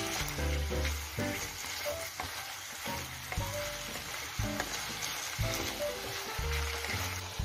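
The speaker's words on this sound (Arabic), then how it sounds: "بلشت اقلب الدجاج على مهلي، وبس شوي استوى خلطت بين الخضرة وبين الدجاج" Chicken and vegetables fry in a pan under a dense, continuous sizzle while a utensil stirs and turns them, scraping and knocking at irregular intervals, loud and near with no voices.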